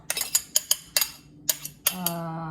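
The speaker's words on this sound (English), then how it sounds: "And whisk it lightly" Muffin batter ingredients for gluten-free, grain-free chocolate banana muffins are whisked lightly in a bowl, giving a run of close, sharp metallic clinks and taps in an uneven rhythm with a faint ringing tone at the end.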